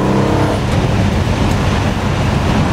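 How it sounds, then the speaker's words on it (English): A 1970 Plymouth Superbird muscle car under full acceleration, its engine a loud, steady low growl filling the whole stretch with no break and no voices. "You hear the growl under full acceleration."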